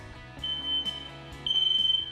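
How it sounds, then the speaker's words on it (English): A smoke alarm sounds a shrill, high-pitched tone in two long pulsing bursts over a soft, low background. "What if you slept through the sounds of a smoke alarm?"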